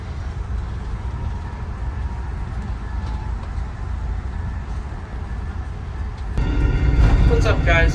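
An Amtrak Carolinian passenger train rumbles along, a constant low roar heard from inside a restroom on board, growing louder near the end, with a voice speaking over it.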